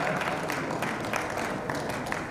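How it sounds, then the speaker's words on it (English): Dense, steady applause from a conference audience fills the short stretch, moderately loud and continuous without pauses. "Please, with a round of applause, let's welcome Professor Ahmed Damfulani"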